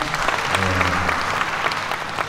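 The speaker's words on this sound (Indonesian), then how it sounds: "Bapak Ketua Ombudsman, Pak Umar, tepuk tangan untuk beliau." Applause from a seated ceremony audience greeting an ombudsman guest at a land certificate handover, a steady wash of clapping lasting throughout with some low voices murmuring underneath.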